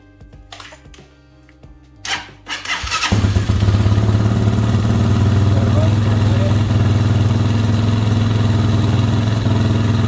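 An Amazon Hawk 250 Enduro motorcycle engine cranks and fires after a couple of short attempts, then settles into a steady, loud idle that runs continuously to the end.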